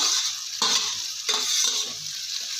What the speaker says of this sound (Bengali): শুধু সবজি দিয়ে রুটিগুলো ওরা সুন্দর করে এভাবে ভেজে নেব